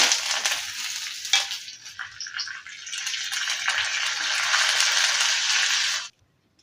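Curry leaves and dried chillies sizzle in hot tempering oil for lemon rasam. The loud, continuous hiss crackles, swells, holds steady, and then stops abruptly.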